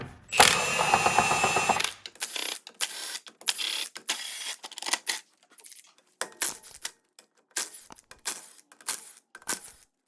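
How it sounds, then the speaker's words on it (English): Socket wrench with a 19mm socket taking off the hubcap and steel wheel of a Chevrolet HHR, a loud buzzing mechanical burst up front, then scattered short bursts of ratcheting clicks separated by quiet gaps. "remove the hubcap and the steel wheel with the 19mm"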